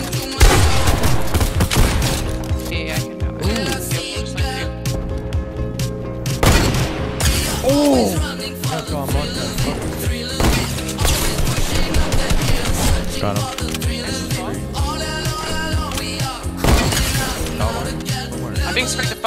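Repeated gunfire bursts and loud booms from a Wii shooter game where a pump shotgun is in use, dense and continuous over game music and effects, with a voice briefly speaking.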